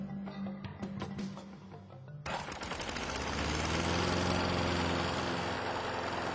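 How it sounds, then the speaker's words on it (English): Car exhaust: a low, rumbling idle with rapid pulses suddenly swells into a loud, broadband roar that holds steady to the end. "In a car's muffler system, for instance, when loudspeakers next to the tailpipe are turned on, the exhaust noise is reduced"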